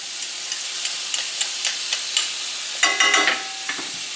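Beef tenderloin searing in a hot pan with thyme sprigs and garlic, a steady bright sizzle broken by scattered pops and a louder burst of crackling partway through.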